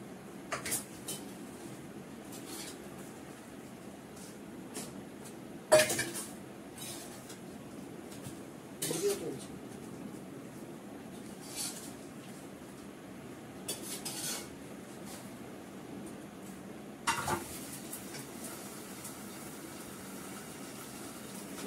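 Utensils clink against a wok and bowl as cooked cauliflower is lifted out and served, a few sharp metallic knocks scattered over a quiet kitchen background.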